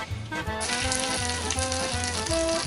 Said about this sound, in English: Spill a little bit of water on the stove, that way you know it's working